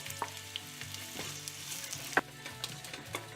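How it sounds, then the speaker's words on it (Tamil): Chopped onion and green chillies fry in hot oil with cumin and cinnamon while being stirred, a close, continuous sizzle with light scraping and a sharp clink partway through. "இதை பொன்னிறமாக வதக்கிக்கலாம்."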